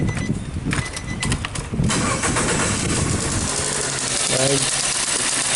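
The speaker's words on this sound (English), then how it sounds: "Let's start the vehicle up again." A Nissan Versa with an ignition fault cranks and catches, then settles into a steady close idle, with a brief spoken word at the start.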